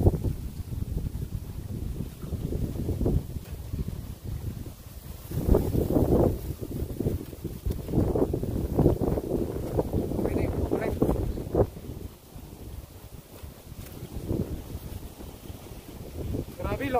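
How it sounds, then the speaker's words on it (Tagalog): Strong wind buffets the microphone in heavy gusts, rising and falling in rumbling bursts, with water and boat sounds beneath and occasional voices. "Sobrang lakas ng hangin"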